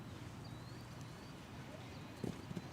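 Horse hooves at a 1.55m FEI 5* show jumping grand prix arena, a few faint distant thuds near the end under a steady crowd and ambient hum.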